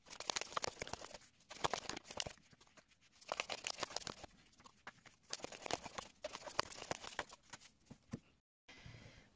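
Tarot cards are shuffled and drawn in soft bursts of papery riffling and flicking, quiet and close, coming in several separate rounds with brief pauses between.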